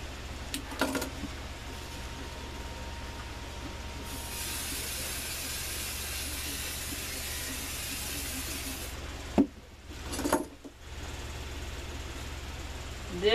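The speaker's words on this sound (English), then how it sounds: "This hairspray is what we use on Bichons because they want to be able to comb through that mane" Hairspray hisses in a steady, broad spray for several seconds while a Bichon's coat is groomed, with a few short bursts and handling noises around it and no talk.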